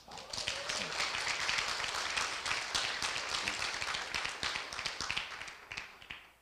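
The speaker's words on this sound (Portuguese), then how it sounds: "Palmas, palmas." An audience at a talk on epigenetic medicine claps loudly, a dense and sustained round of applause filling the room for several seconds before tapering off at the end.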